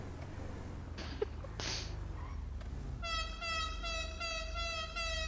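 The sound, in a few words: car horn honking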